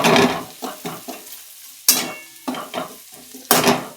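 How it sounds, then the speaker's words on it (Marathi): Cooked tomato and spices being sautéed in a pan for an okra fry, with short bursts of stirring and scraping recurring in uneven bouts, close and moderately loud between brief quiet gaps. "टोमॅटो चांगलं शिजलंय, त्यामध्ये हे काढलेले मसाले टाकून परतून घ्यायचे"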